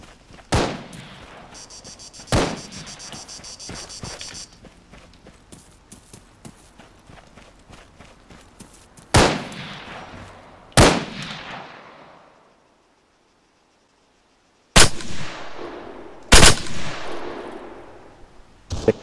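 Sharp, isolated gunshots in Arma 3 Breaking Point, several loud cracks spaced seconds apart with echoing tails, some in quick pairs, between quieter stretches and a brief silent gap.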